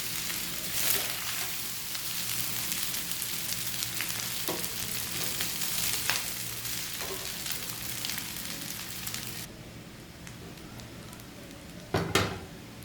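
Chinese vegetable fried rice stir-fried in a pan, a continuous close sizzle with occasional spatula scrapes and clinks, quieting near the end before a sharp metallic knock.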